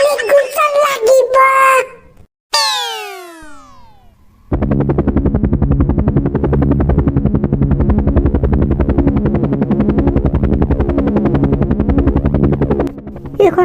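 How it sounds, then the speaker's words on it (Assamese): Cartoon helicopter flying, a loud steady rotor drone with rhythmic chopping beats that runs for about nine seconds after a short stretch of squealing, falling cartoon sound effects and voices. "এইখন কাৰ হেলিকপ্টাৰনো?"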